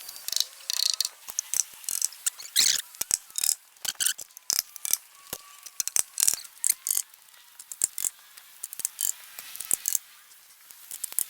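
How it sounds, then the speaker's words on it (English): Screws driven into timber joists and metal joist hangers on a playhouse deck frame, a string of sharp, close, bursty ratcheting bursts from the driver, repeated in quick uneven spurts throughout. "now we're gonna put the joists up and start screwing them in."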